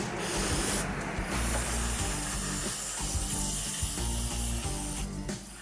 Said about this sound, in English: I like to use the non-chlorinated brake cleaner.